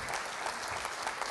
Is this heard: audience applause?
yes